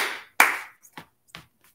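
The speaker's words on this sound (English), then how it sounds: "clap your hands" Hands clap along to a children's sing-along song, a few separate claps spaced unevenly with quiet gaps between them. The first clap is the loudest and the later ones are softer.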